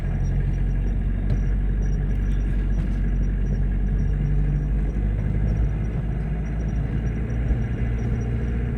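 A car engine idles at a steady low rumble, close and continuous, with a faint high whine above it and no talking.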